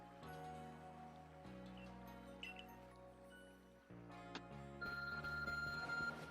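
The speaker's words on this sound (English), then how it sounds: "Your ARC phone is beeping." Electronic beeping from the ARC phone in the video game Pokemon Legends Arceus, tonal chimes layered over game music, with a brighter repeated tone near the end.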